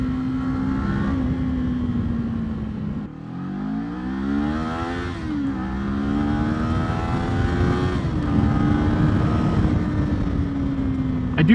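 A 2024 Kawasaki Z500 naked motorcycle revs steadily up through the gears while being ridden, its engine note climbing and dropping at each shift, loud and close throughout with no talking.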